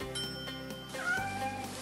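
A cat meows once, a clear, close and moderately loud call rising then falling, heard over soft background music in a children's room scene.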